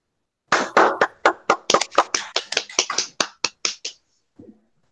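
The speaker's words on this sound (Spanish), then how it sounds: "¡Ay, un aplauso, Pamelisa!" Scattered claps in a classroom at an accounting workshop, about a dozen sharp, separate hand claps in an uneven rhythm that speed up, then trail off into a faint final pair, with no talking over them.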